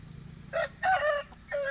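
A young Thai fighting rooster, four to five months old and large for its age, crows in a few short, fairly faint bursts, alone with no talk.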